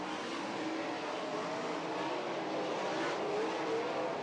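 Sprint cars roar through the turns at Hilltop Speedway during Ohio Sprint Speedweek, a dense, continuous, loud engine wash from the field with no single car standing out.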